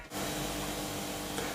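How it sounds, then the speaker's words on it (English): A kitchen fridge gives off a steady, close hiss-like whir that runs evenly through the short stretch, with no voices. "Fridge just started making sounds"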